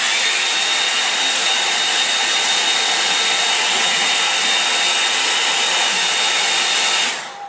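Hair dryer blowing steadily at close range to dry a watercolour painting of a Welsh mountain scene, a loud continuous whoosh that switches off in the last half second.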